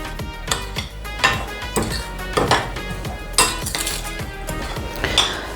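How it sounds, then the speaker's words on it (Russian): A spoon scrapes and clinks against a bowl while sugar substitute is mixed into a poppy seed filling for poppy seed buns, giving close, repeated knocks and scraping strokes at an uneven rhythm, with no talking. "И все тщательно перемешиваем."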